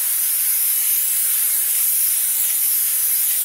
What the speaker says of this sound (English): Lots of brake clean in this video.